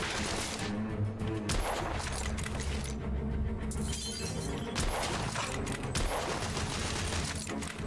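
Dense, continuous gunfire and shattering impacts from the Victorian London shooter game The Order: 1886, rapid overlapping shots and crashes filling the whole stretch, loud and busy with almost no talk.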